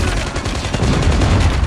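In Call of Duty Mobile, guns fire in a rapid, unbroken stream of loud, close shots that crackle on without pause.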